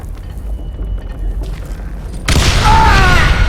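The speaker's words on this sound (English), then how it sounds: "All it takes is one tiny spark, and boom." A low rumbling lead-in gives way to a sudden loud explosion in the Western shooter game Call of Juarez: Gunslinger, bursting in sharply two-thirds of the way through and roaring on with crackling debris.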